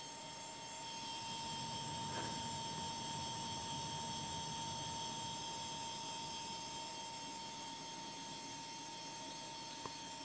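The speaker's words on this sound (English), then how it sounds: "Now the brushless motor is running at the maximum speed." A hard-drive brushless motor spinning at maximum speed under STM32F4 control gives a faint, steady high-pitched whine with a constant tonal hum, running alone and unchanging.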